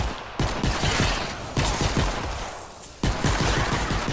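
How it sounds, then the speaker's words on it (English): Rapid bursts of pistol fire in a video game, loud and close, several quick volleys of sharp shots repeating over a few seconds with no speech. "you do have to hit your shots, as with any pistol player"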